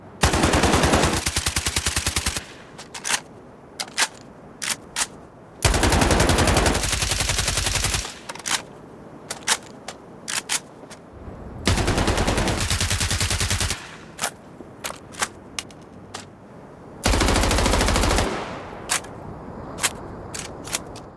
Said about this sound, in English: the automatic secondaries continue to have that pleasing chatter, on top of having much better reverb